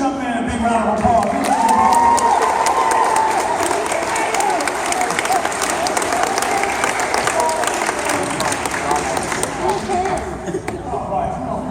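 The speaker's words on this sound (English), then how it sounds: "let's give this young man a big round of applause" A school audience applauds and cheers for a young man at a speech event, loud dense clapping with whoops at first, fading somewhat over about ten seconds while a voice talks over it.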